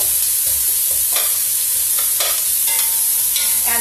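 Onion sautéing in a pan for turkey soup, a continuous bright sizzle with occasional stirring scrapes and clicks close by, no voices.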